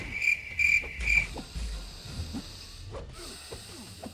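Game crickets chirping in Marvel Contest of Champions, a loud high-pitched trill in three quick bursts near the start, then fading under low thumping game noise.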